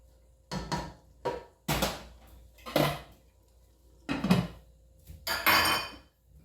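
A metal pot of egusi soup with dry fish, stockfish and shaki being handled and covered, giving six separate clanks and scrapes of metal on metal in a quiet kitchen.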